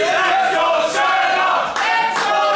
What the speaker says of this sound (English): And the crowd is loving this